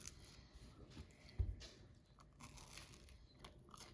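A bite into a crunchy-crusted strawberry bagel gives one sharp crunch near the mic, followed by quiet chewing in a faint room.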